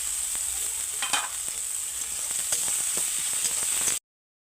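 Onions fry in oil with garlic paste, ginger paste and bay leaves for chicken kosha. A steady sizzle runs under repeated scraping stirs from a spoon, close and clear, until it cuts off after about four seconds.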